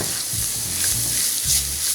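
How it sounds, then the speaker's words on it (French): Crushed garlic and ginger sizzle and fry steadily in a pan for Indian dal makhani, with brief stirring scrapes; the frying is close and continuous and no one speaks. "J'ajoute l'ail et le gingembre que l'on a au préalablement pilé tout à l'heure"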